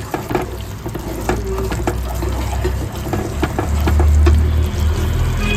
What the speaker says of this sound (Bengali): আর আমি দইয়ের বাটিটা ধুয়ে কিছুটা জল দিয়ে নেব